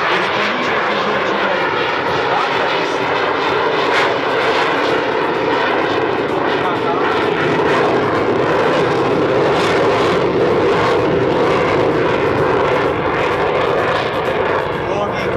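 A French Air Force Mirage 2000C jet roars through a dynamic flying display at an airshow, its loud engine noise sustained and overpowering throughout, while a commentator talks over it.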